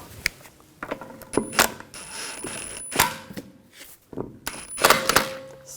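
Metallic clinks and ratcheting clicks come from a lug bolt being threaded onto a 2011-2018 Volkswagen Jetta rear wheel, a series of sharp, irregular taps and rattles at close range, with no talking.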